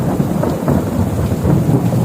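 Steady rain falling in a village with low rumbling thunder, a dense continuous wash of sound that stays loud and even throughout with no voices.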